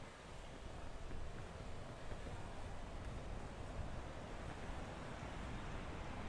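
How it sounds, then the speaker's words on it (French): Wind in the video game PEAK, a steady broadband rush, low and fairly faint, continuous throughout with no talk. "Vent."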